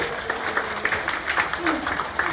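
Lecture audience at a college in the Philippines giving a smile clap, scattered uneven clapping in a room, loud and close, with some voices mixed in.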